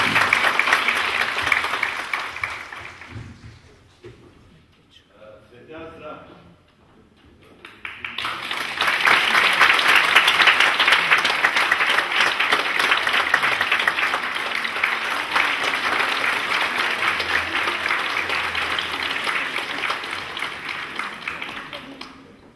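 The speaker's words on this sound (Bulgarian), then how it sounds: "Чрез аплодисментите те го показват." An audience applauds the Parvomay folk singing ensemble at its 35th anniversary concert, clapping that fades to a lull, then swells into a loud, sustained round of dense clapping.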